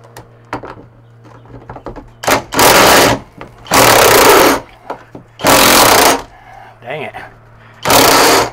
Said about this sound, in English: Then I'll get the cutoff wheel out here and nip those off.